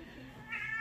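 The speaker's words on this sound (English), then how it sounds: "Oh, hush, cat." A house cat meows briefly indoors, a short mid-pitched call rising near the end of the moment, with faint room noise and a hint of speech nearby.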